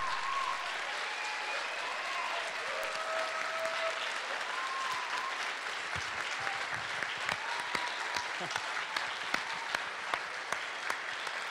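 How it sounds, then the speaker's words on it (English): An audience breaks into sustained applause, a full, even roar of clapping, with faint voices or tones briefly audible early on and a few sharper individual claps standing out toward the end. "Thank you on behalf of everyone here, which will be shown by their applause."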